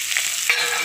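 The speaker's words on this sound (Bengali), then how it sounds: "পেঁয়াজটা একটু ভালো করে ভাজা ভাজা করে নিচ্ছি" Chopped onion frying in oil with whole cumin seeds, a brief close hiss of sizzling with a light scrape of stirring partway through, no one speaking.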